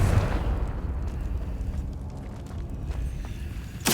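A Confringo blasting spell explodes in Hogwarts Legacy, a deep rumbling boom that rolls and fades over several seconds before a sharp burst cuts in at the very end.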